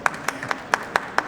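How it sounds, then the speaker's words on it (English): Six or seven evenly spaced single hand claps, sharp and close, in a brief rhythmic burst at a panel discussion. "I think that deserves a round of applause"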